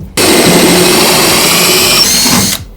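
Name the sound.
drill boring through metal with cutting oil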